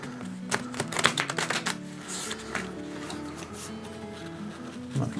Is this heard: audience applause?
no